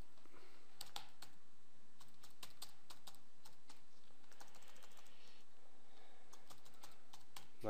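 Quiet, irregular tapping on a computer keyboard, keys clicking in short uneven runs and pauses against a low background hum.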